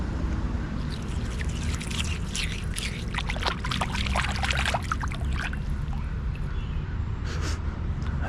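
Water pours and trickles steadily while hands are washed outdoors, a continuous splashing wash over a low rumbling background with scattered brief splatters.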